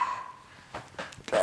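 A dog gives a few short barks indoors, sharp separate yelps at moderate distance with quiet gaps between them.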